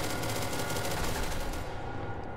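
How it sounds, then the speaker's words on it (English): Rapid automatic gunfire in the video game SCP: Secret Laboratory rattles in a fast continuous burst, loud and close, then cuts off near the end. "I hear gunfire. Where's the gunfire coming from?"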